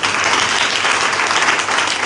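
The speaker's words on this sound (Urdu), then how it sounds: "آئیے زوردار تالیاں بجائیں." A church congregation applauding loudly during an Urdu sermon, a dense, steady wash of many hands clapping together throughout, close and full.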